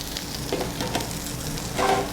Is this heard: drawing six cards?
no